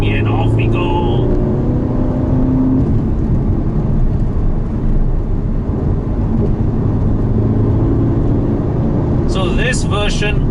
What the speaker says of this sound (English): So this version of the GTC4Lusso is powered by a V8 engine